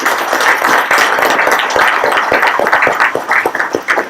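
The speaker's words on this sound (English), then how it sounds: "I really want to give an applause, if we could, for the panelists." Close, loud clapping from a small audience at an employment workshop for military families and veterans, applauding the panelists with distinct individual hand claps in an uneven rhythm.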